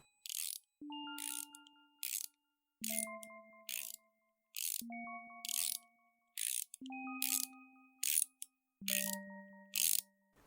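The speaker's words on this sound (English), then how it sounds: "Then I heard it, a soft ratcheting." A soft mechanical ratcheting effect repeats in about five even cycles, each a short burst of fine clicking paired with a clear bell-like ding that rings and fades, set against near silence.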